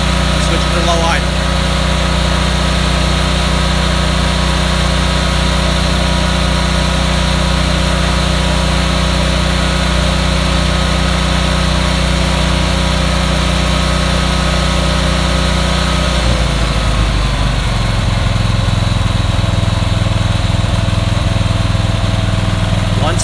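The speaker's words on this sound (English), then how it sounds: "Now we're going to power down the generator and switch it to low idle." Westinghouse WGEN12000DF dual fuel generator engine running loud and steady, then its pitch drops and settles to a lower idle drone.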